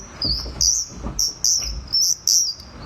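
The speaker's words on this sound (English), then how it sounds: "this will mimic the sounds of different birds" A handheld bird call device worked by varying pressure and speed gives a series of about six short, bright chirping tweets in an uneven rhythm, close and fairly loud, with a few soft low thumps from handling between them.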